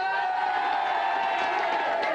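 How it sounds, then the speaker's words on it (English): Studio audience on a games show cheers and whoops in one loud, continuous wash of crowd noise for a couple of seconds, with no clear individual voices standing out. "let's have a big round of applause for Wanted Magic"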